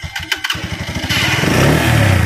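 A motorcycle engine under repair by a mechanic is cranked with a few sputtering turns, then catches and settles into a loud, close, rumbling idle.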